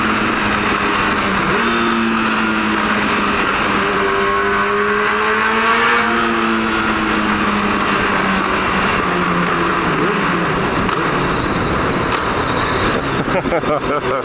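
A 1999 Yamaha R1 sports motorcycle engine roars at high revs, pitch rising and falling through gear changes, loud and close with constant wind and road noise.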